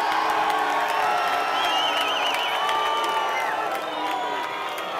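A large crowd cheers at the Mayweather vs Canelo press conference in Times Square, with loud continuous whooping, shouting and clapping and some whistles, all at a steady high level.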